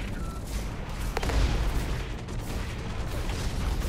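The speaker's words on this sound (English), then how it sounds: "I want to shoot him dead." Mech combat in the video game Hawken, a dense rumbling barrage of gunfire and booms with mechanical clanks, loud and continuous with no voice over it.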